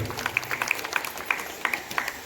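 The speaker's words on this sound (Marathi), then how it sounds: "त्यांचं देखील सर्वांनी जोरदार टाळ्या वाजवून कौतुक करा" Audience at a college annual gathering applauds a teacher: dense, sustained clapping from a crowd, loud and close, with sharp individual claps popping out over the steady patter for a couple of seconds.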